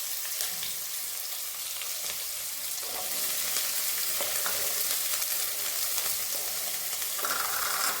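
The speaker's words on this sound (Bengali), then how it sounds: "এবার এই পেঁয়াজটাকে একটু নুন দেবো দিয়ে তারপরে এটাকে মিনিট 10 একটু ভেজে নেব" Sliced medium onion sizzling in a pan with salt, a steady broadband frying hiss that grows slightly louder midway, with faint scraping and no voices.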